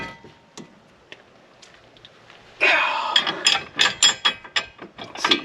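A wrench loosens a nut on a Tesla Model 3 front steering knuckle, starting after a quiet stretch with a burst of sharp ratcheting clicks in a quick, uneven run, close and loud.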